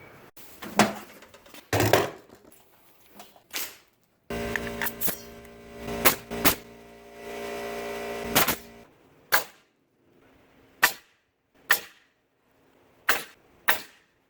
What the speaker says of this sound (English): Now I'm going to pull the nail gun out and we'll nail it together.